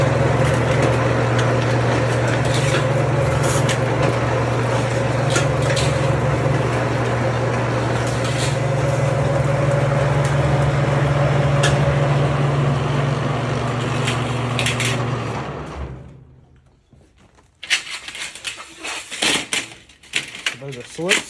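An HVAC slip-forming machine drives sheet metal duct stock through its gears, a steady loud mechanical whir and rattle that runs for about fifteen seconds, then winds down to near silence before scattered clanks and handling noises.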